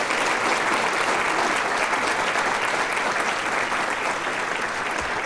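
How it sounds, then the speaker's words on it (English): Sustained audience applause fills a breakfast event hall, a dense, steady wash of clapping from a crowd that holds at full strength with no voices over it. "let's give them another nice round of applause"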